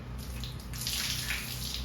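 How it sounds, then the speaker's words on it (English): Trapped water drains and trickles steadily from soaked wall insulation being pulled out of a hurricane-flooded home, a close, continuous splashing pour with no voices. "water that's trapped in that insulation"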